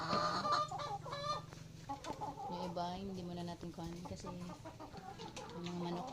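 Chickens in a coop cluck and squawk close by, a busy overlapping chorus of calls, some drawn out and honking, with a person speaking quietly now and then.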